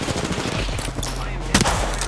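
Gunfire in a battle royale video game, a squad mid-fight as rapid crackling shots run continuously, with a louder burst of fire standing out near the end.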